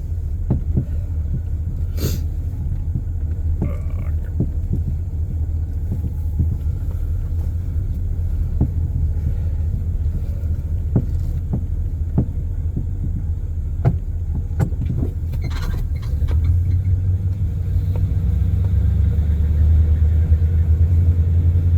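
A 1968 Oldsmobile Delmont 88 on the move, a loud, steady low engine rumble with wind buffeting and occasional clicks and knocks inside the cabin, the drone swelling slightly toward the end.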